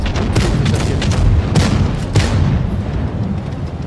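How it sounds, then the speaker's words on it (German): A tank gunfire barrage in World of Tanks Blitz: loud booming cannon shots and explosions crack out in quick succession over a heavy low rumble of battle. "Ein Geballere."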